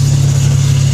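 A vehicle engine idles steadily with its exhaust running, a loud, close, even drone that holds without change throughout.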